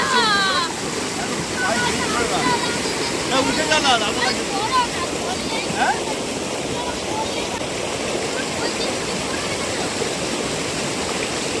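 Strong, fast stream current rushing loudly and steadily, a dense broadband wash of water close by with no letup throughout.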